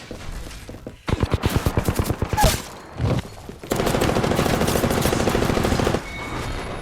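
Heavy automatic fire from an Apex Legends-style video game rattles in rapid bursts, a pause, then a long sustained stream of shots at close range, loud and unbroken by talk.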